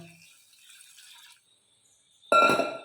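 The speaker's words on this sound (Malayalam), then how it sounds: "ഇനി ലേശം വെള്ളവും കൂടെ ഒഴിക്കാം" Small splash of water poured into a pot of mango curry, a short bright burst of liquid after a few quiet clinks, close and brief.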